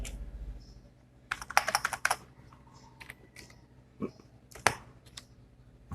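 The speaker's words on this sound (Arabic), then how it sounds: "هبدأ أكتب" A channel name is typed on a computer keyboard: close, crisp keystrokes come in quick bursts with short pauses between them, with no talking.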